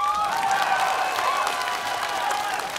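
Audience applause at a Vietnamese overseas music show as a male singer is welcomed onstage: steady, dense clapping from a crowd that holds at an even level throughout, with faint cheering mixed in.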